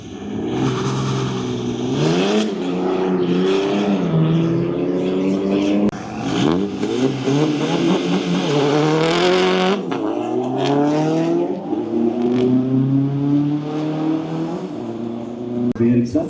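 A car drives into the pits, its engine revving and changing gear with repeated rises in pitch, loud and close, while someone talks over it at times.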